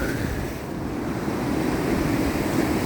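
Sea waves wash onto the shore along Blackpool's North Promenade, a continuous loud rushing surf mixed with buffeting wind noise, with no voices.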